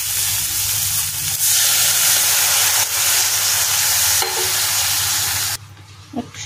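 Water poured into a hot pan of dry fish chutney (shidol) sends up a loud, continuous hiss and sizzle that holds steady for several seconds, then cuts off abruptly into quiet with a few faint bubbling pops.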